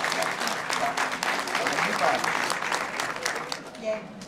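An audience at BogForum 2011 applauds Johannes Møllehave with steady, warm clapping from a large crowd, continuous and even across the few seconds.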